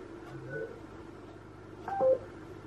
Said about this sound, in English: Apparently you can do phone calls on Alexa.